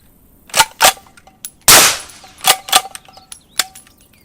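Suppressed 6.5 Creedmoor straight pull rifle fired through a Radical Firearms Sinter 3D printed suppressor at a range, a sharp close shot with a long broad blast, flanked by metallic clicks and clacks of the bolt cycling.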